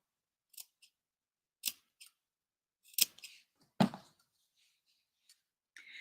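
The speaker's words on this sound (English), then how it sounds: "I'm going to clip the sides of the outer fabric as well." Scissors snip the sides of outer fabric for a round tailor's pressing ham, giving several crisp, separate cuts spaced unevenly across a quiet background.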